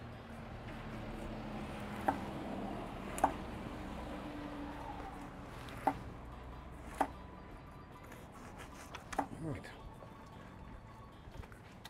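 A knife cutting slanted slices through a barracuda in a home kitchen in Manzanilla, Trinidad, a few sharp chopping knocks against a board spaced several seconds apart over a steady low background, with a voice talking now and then.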